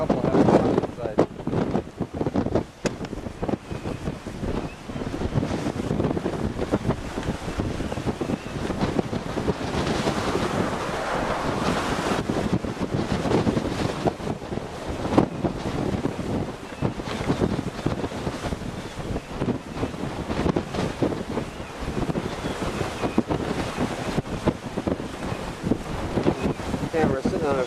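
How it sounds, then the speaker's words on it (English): Strong wind buffets the microphone on a windy hilltop beside a parked van, a steady loud rushing roar with gusty swells throughout, and a voice sits partly under it. "Nice view up here, but it is a little windy."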